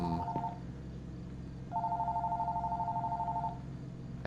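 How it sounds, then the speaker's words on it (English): A telephone rings in the video game Fears to Fathom: a brief electronic trill, a pause, then a longer sustained two-tone ring, loud and close in a quiet room. "Oh, I have to sit down and answer the phone"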